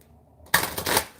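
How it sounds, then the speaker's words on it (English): A deck of cards is shuffled by hand, a sudden burst of dense riffling flutter that starts after a short silence and lasts about a second, close and fairly loud. "let's give these a little shuffle"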